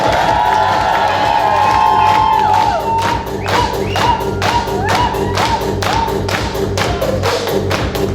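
A crowd at a twenty-year class reunion cheering and clapping for their teachers, loud and close, with high shouts at first, then rapid rhythmic applause that carries on steadily.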